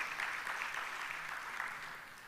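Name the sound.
applause at a conference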